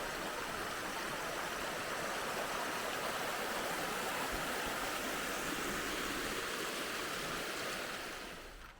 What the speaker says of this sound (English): That's the Colorado River, which is the river that flows right through the Grand Canyon.